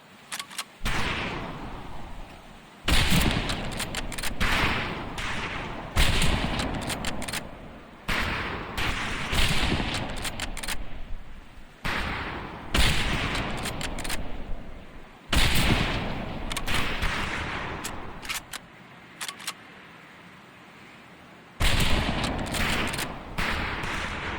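Rifle volleys crack out across a shooting range in Medal of Honor: Pacific Assault, loud bursts of overlapping shots in repeated bouts of about two to three seconds, separated by short pauses.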